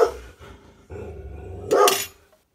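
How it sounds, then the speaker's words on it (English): A dog indoors barks and growls in a few loud bursts with short gaps between them, the last burst the strongest. No one talks. "we're gonna take a break so Wilson can bark some more"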